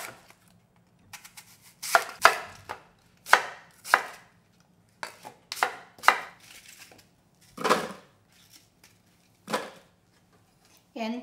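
Food processor chopping Honeycrisp apples into pieces, a series of loud, uneven whirring bursts and short pulses separated by pauses, close up with no talking.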